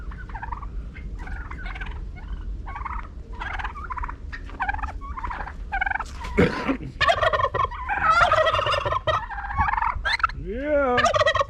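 Turkeys gobble repeatedly on a farm, a run of loud, close calls in quick bursts with other fowl noise mixed in, while an emu is around chasing them.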